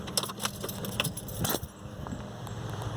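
Battery being disconnected on a first-generation 2004-2012 Chevrolet Colorado, heard as a few light metallic clinks and jangles near the start, then a quieter stretch of low background rumble, with no speech.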